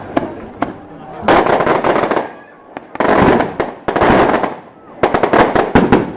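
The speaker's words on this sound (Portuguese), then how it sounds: "Primeiro, nesse momento, prestigiar com alegria os fogos." Fireworks burst in loud, crackling volleys at an outdoor religious celebration, with several sharp pops early, then long rumbling crackle runs separated by brief gaps, and a voice briefly heard among them.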